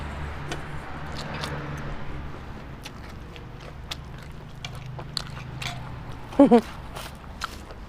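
Close, wet chewing and biting of pork noodle soup with meatballs, dry egg noodles and spicy red chili, a steady run of soft crunches and slurps with a speaking voice nearby.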